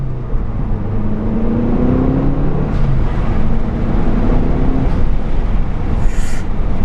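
A Gen 1 Mazda 3 MPS fitted with a GFB Respons valve pulls hard in second gear, a loud, steady whir and drone climbing in pitch as it accelerates, with a brief hiss near the end.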